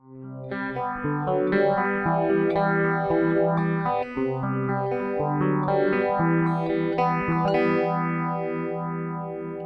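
Electric guitar chords ringing through a clean effects pedal with shimmering chorus and echo, sustained and steady for several seconds, no talking.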